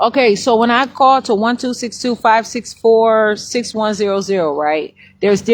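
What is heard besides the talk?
No everyday noises stand out.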